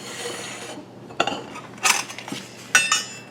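A slotted spoon knocking against a hot cast iron pot of cowboy candy jalapeños, making a few sharp metallic clinks and scrapes spaced over a few seconds, close and clear with no talk.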